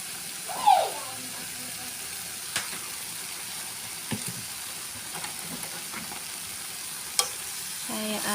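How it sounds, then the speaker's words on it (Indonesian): Long beans and tempeh are stirred in a pan with some water, a soft steady simmering hiss broken by occasional spatula taps and scrapes, close and fairly quiet. "Saya aduk-aduk"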